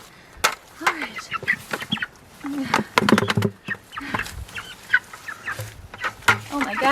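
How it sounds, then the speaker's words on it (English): Young meat chickens clucking and cheeping near a chicken tractor on a pasture, with repeated short bursts throughout while a person talks over them. "Here we go, chicken babies."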